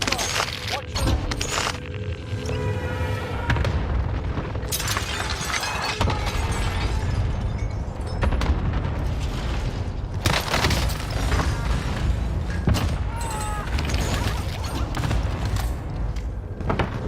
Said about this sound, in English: Enemy cluster strike.